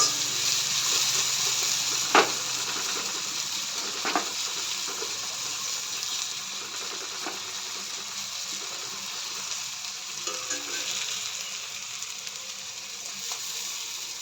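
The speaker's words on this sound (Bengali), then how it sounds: "ভাজাটা হয়ে গেছে, এবার চিকেনটা দিয়ে দেবো এর মধ্যে।" Onion, ginger, garlic and chilli masala frying in oil for biryani, a moderate continuous sizzle with a few sharp utensil knocks and scrapes, close but fairly soft.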